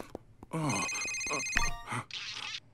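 A cartoon telephone rings with a bright, insistent electronic trill, loud and close, repeating in bursts, with brief cartoon voices around it.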